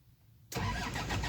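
Isuzu Panther engine cranking on the starter and catching abruptly after a brief quiet moment, then running with a loud, close rumble.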